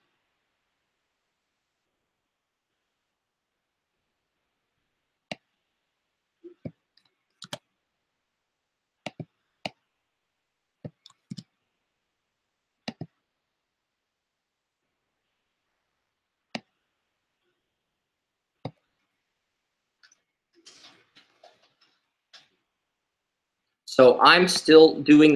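Sparse keyboard typing during a 2017 NHL Draft live special: scattered single key clicks, quiet and close, spread over about twenty seconds before a short burst of speech at the end.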